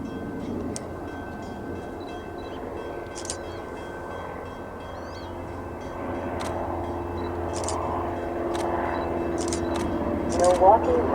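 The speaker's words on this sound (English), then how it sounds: "Milwaukee West Main Line train number 2219 to Winchester." A Metra commuter train hauled by an F59 locomotive passes at a distance, producing a steady low rumble that swells slightly toward the end, with faint clicks and bird-like chirps over it.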